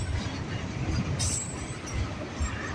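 A CN freight train rolls past, a steady broad rumble of railcars with wheel noise and a brief metallic squeal, continuous and fairly distant.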